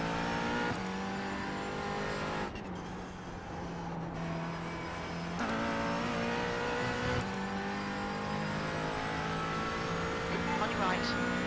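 A Falken GT4 race car engine at the Nordschleife in a VR racing game, holding a loud steady drone with gear shifts and rising revs, alongside a second car's engine.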